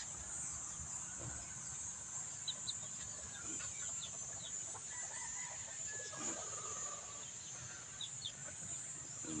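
Chickens in a backyard coop give scattered clucks and short calls over a steady background hum, the birds close by with no one speaking.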